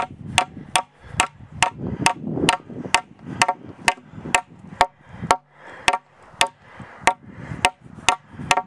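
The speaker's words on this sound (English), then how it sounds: "So I can even nail with my left hand, one-handed, since I've got a pre-drilled hole." A nail driven one-handed into a 2x4 through a pre-drilled hole gives a fast, even series of sharp hammer strikes, loud and close, with faint shuffling between blows.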